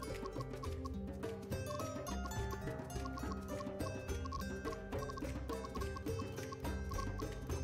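A chicken clucking in Jagged Alliance 3, soft and partly buried under loud, busy game music that runs without pause.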